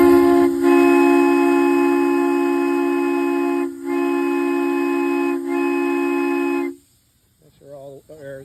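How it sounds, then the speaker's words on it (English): A 1973 steam engine's whistle, pressurized with air during start-up, blows as a loud sustained chord with two brief dips, then cuts off, followed by someone speaking nearby. "So you got your whistle."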